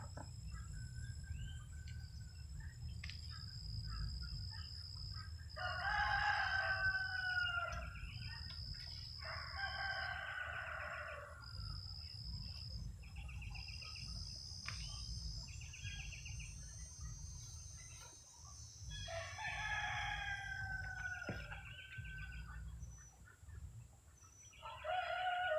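Backyard roosters crow several times at moderate distance, with soft clucking from chickens between the calls, over a steady bed of crickets and insect buzz outdoors.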